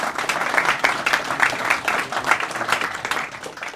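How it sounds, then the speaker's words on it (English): An audience at a Cambridge AI in life sciences event claps for the speakers, a short burst of brisk, close applause with individual hand claps audible throughout and no talking. "another round of applause for our speakers"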